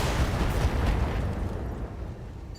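Heavy BattleMech weapons fire in the BattleTech video game lands as a dense, rumbling explosive roar with deep low-end booms, loud and sustained before gradually tailing off.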